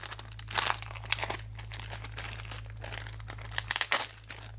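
Crinkling and tearing of thick tape on packaged Pokémon cards being opened, close and fairly quiet, with sharp bursts of ripping between softer rustles.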